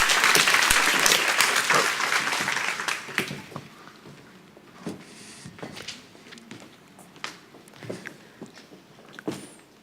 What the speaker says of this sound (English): can I have a big round of applause for Eva van Passel?